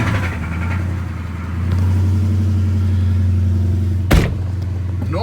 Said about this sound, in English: Actually, let's just try firing it up.